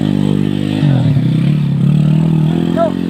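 A motorcycle's engine is pushed hard at full throttle, a loud close roar that surges and rises in pitch, with rattling clatter and a short squeal near the end.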